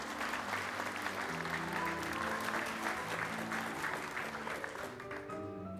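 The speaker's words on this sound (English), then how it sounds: "Please welcome him with a big round of applause" Audience applause at a Japan Airlines first A350 XWB delivery ceremony, a steady dense clapping from a large crowd that holds for several seconds and eases slightly at the end, with faint voices and background music underneath.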